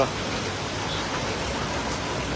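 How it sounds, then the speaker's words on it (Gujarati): Steady rain patters down on surfaces in Halvad town, Gujarat, a continuous even hiss without a break. "તેવા જ સમયે વરસાદ થયો છે"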